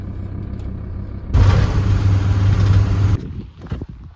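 A van rumbles off from a garage, its engine swelling into a loud, steady low drone for a couple of seconds before fading back to quieter road and ambient noise.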